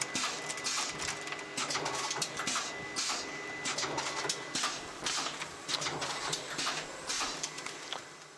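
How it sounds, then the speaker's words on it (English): A linerless labeling machine runs tray samples, giving a rhythmic series of mechanical clicks, whirs and thumps at close range with a faint steady tone beneath, no voices. "we're going to run a couple of samples through the machine, and we'll show you how the machine works"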